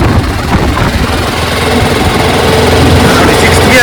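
A BMW G310RR motorcycle cruises in sixth gear, its engine giving a steady low drone with wind rush over it, constant and fairly loud throughout.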